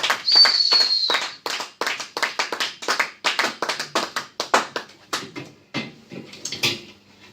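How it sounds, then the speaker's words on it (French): A church congregation claps rhythmically in a fast, steady beat of sharp hand claps that stays close and loud, then thins out and slows toward the end, with faint voices behind. "Nous acclamons pour le roi de rois."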